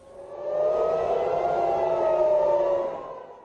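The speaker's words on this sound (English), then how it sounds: "sirens warn of a barrage of incoming Iranian missiles" An air-raid civil defense siren wails over Tel Aviv during an incoming missile barrage, a single long tone swelling up and fading back down, distant and alone.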